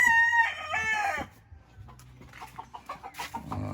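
A rooster from a Sweater crossed with Boston Roundhead gamefowl line crows loudly and close, one long harmonic call, followed by scattered clucks and farmyard noise.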